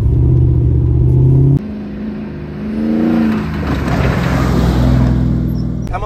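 A monster jeep's engine on its first test run roars loudly and close, dropping suddenly to a lower rumble, then climbing again in repeated revving surges.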